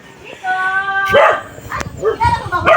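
A small dog barks and yips in short bursts at a house while excited people talk and exclaim close by.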